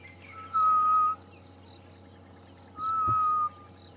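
A human whistle imitates the grey-headed bushshrike, or ghost bird, on a sunrise safari drive: two long, level, clear notes, close and fairly loud, separated by a pause over a low, quiet hum.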